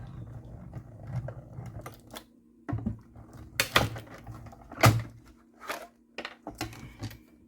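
A die-cutting machine cranked by hand with washi tape and paper fed through it, giving irregular close clunks, rattles and grinding rolls with short pauses between bursts, no voices.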